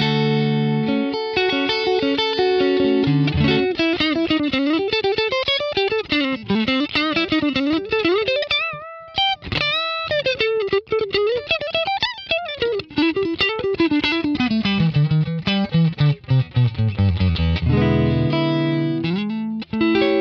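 Electric guitar played through a mid booster and other effects pedals at a pedal trade show, with loud, continuous, driven tones, sustained notes and bends, and fast picked runs sounding alone with no talk.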